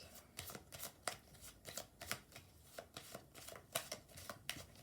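Tarot cards are shuffled by hand in quick, rhythmic riffling bursts, close and crisp, about a dozen flutters in a row with no talking.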